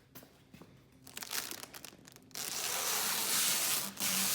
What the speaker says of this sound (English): Peel the plastic off.